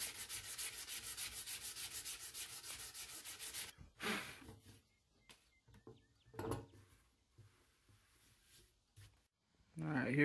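Steady rhythmic scraping of sandpaper on wood, close and loud, running for several seconds, then it stops and scattered bumps and handling noises follow.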